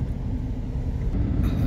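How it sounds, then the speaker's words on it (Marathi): A car passes on a road through dense bamboo and teak forest, a brief low rumble of engine and tyres close by with no talking. "गाडी."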